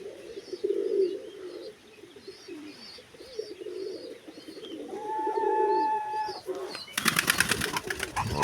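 Low, throaty pigeon cooing repeats through the clip, soft chirps above it, ending in a sudden burst of flapping wings.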